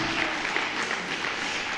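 A church congregation claps warmly for Jesus at a sermon, a dense, continuous burst of applause from many hands.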